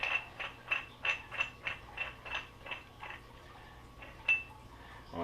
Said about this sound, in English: then we're just going to take this whole valve out.